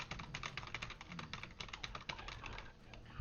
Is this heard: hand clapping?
no